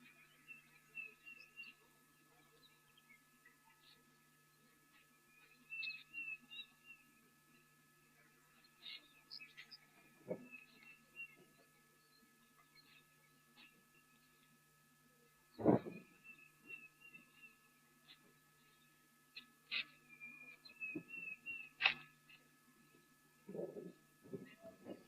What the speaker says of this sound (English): Still that Deirdre's cuckoo calling in the background.